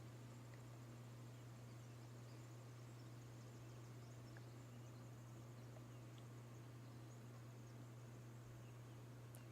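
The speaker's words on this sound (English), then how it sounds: "Hear those grasshoppers." Grasshoppers chirping outdoors, a faint, steady high-pitched insect buzz held under a low constant hum with no talking.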